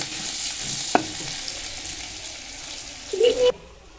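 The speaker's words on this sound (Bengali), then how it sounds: "বেরেস্তা করছি চটফুটি ছাড়ার জন্য বেরেস্তা কাঁচা লঙ্কা দিয়ে" Onions frying with green chilli for beresta, a close, continuous sizzle in the pan with a sharp utensil clink early on and a brief louder rattle near the end.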